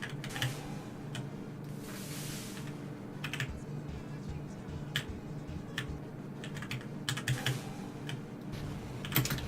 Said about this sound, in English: If I keep on mashing like this, I'm gonna destroy my keyboard in a few days.